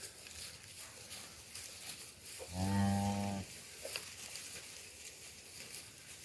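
Cattle on a cow-calf farm during breeding season, with a single long moo about a second long rising clearly out of steady outdoor background noise, no talking.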